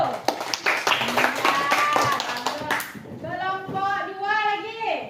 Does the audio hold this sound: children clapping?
yes